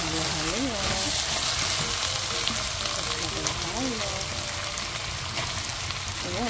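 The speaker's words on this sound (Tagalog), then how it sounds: "At paghahaluin para hindi masunog." Winter melon and pork slices sizzle steadily in a hot pan while being stirred, a continuous close frying hiss with faint scraping and occasional background voices.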